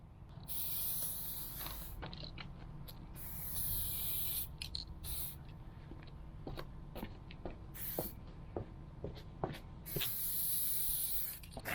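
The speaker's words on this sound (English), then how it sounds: "the first coat I'm going to put on here is just going to be a light coat just to get it coverage" Several bursts of spray paint hiss as a light first coat goes onto a Chevrolet HHR SS spoiler panel, long airy sprays separated by short pauses with faint clicks in between, close and steady, no talking.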